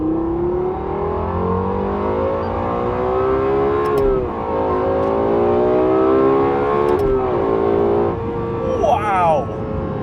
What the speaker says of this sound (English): time to hit the road in the Lexus LFA